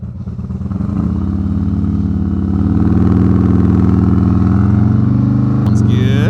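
A 2020 Harley-Davidson Road Glide Special V-twin idles with a deep, loping rumble that builds as the revs rise and holds steady up close, ending in a brief clunk and a light rattle.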